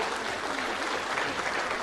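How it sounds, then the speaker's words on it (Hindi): Audience applause at a Jharkhand appointment-letter ceremony, a dense, even roar of many hands clapping together, moderately distant and steady across the whole stretch. "इस नई उड़ान के लिए एक बार जोरदार तालियां बजा दीजिए"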